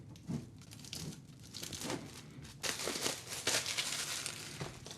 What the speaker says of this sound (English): Let's cut into this wrapping and see what's inside.